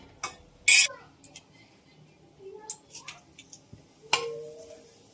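Cumin and mustard seeds dropped into hot oil in a home kitchen, giving short crackling pops and sizzles between sparse clinks of a utensil against a pan, close and fairly quiet.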